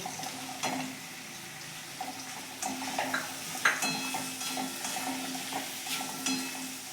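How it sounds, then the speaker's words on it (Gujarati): Chopped onion is stirred into carrots and potatoes frying in a pan for vegetable pulav, with a steady low sizzle under repeated scraping strokes of a spoon against the metal. "હવે આપણે આની અંદર ડુંગળી નાખી દઈશું"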